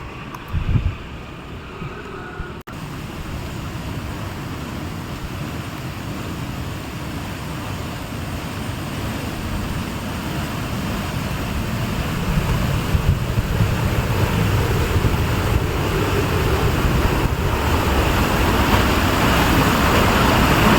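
Water surging forcefully over a canal bridge in Kanyakumari, a steady broad roar like surf with wind buffeting the microphone, swelling slightly louder toward the end and continuing without pause.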